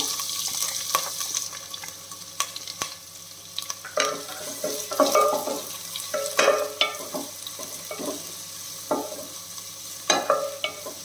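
A large, finely sliced onion frying in a pan for prawn biryani, a steady sizzle with repeated scraping stir strokes and clinks in bursts, moderately close, with no talking.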